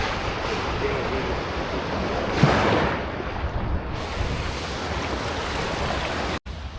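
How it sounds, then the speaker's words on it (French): Ocean waves wash against a rocky stretch of beach at Playa del Carmen, a steady broadband surf roar that holds level throughout, with a brief swell near the middle. "C'est très joli, les vagues et tout,"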